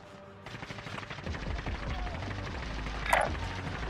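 Automatic gunfire in a Call of Duty: Modern Warfare match, a dense rattle of rapid shots that builds and keeps going, with a sharper burst near the end and faint radio-style chatter in the background.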